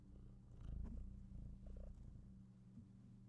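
A pet cat purrs close by, a soft, steady low rumble that swells and eases over a few seconds, with faint video-game sound in the background.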